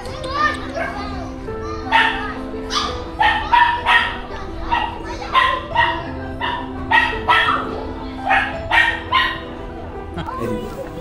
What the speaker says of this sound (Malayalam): വേറെ പട്ടിക്കുട്ടികളൊക്കെ ഉണ്ട്.